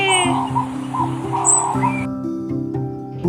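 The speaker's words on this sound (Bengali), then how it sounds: "ঘুঘু পাখি" Short bird calls from a dove in a tree repeat several times at a moderate distance, heard over a steady bed of background music.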